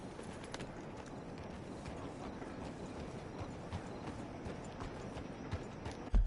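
A horse's hooves clip-clop steadily at a run in Red Dead Redemption 2. The even, continuous beat sounds close and carries on alone through the whole stretch.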